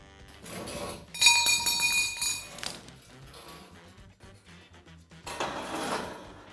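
A copper pipe for a clothes rail being cut with a pipe cutter, giving a few metallic clinks and scraping rasps in short bursts, fairly close and moderately loud.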